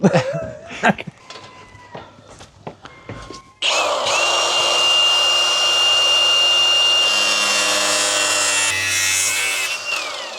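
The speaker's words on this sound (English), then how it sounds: "The pilot holes, and then yeah, jigsaw out the window" A jigsaw starts up and cuts a window opening in a van wall, cutting steadily for several seconds with a loud, continuous whine, after a few sharp knocks and handling sounds.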